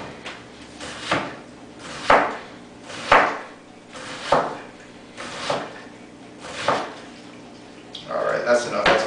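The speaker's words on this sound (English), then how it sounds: "now we're going to cut very small slices into it" A knife slicing a large onion into very small pieces on a cutting board, with evenly spaced chopping thuds about once a second, close and distinct, ending in a quicker flurry of cuts.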